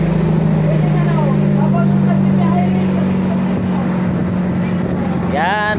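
A motorboat engine drones steadily and loudly close by during a ride, with wind buffeting the microphone and people talking over the constant hum.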